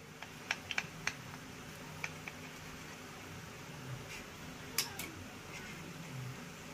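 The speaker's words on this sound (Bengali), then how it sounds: "এবার আমি আপনাদের প্রথমে জলখাবারটা একটু কেটে দেখাচ্ছি।" Crisp, sharp cracks and crunches as a crispy dosa snack is cut, a few scattered close clicks against a low, steady background hum.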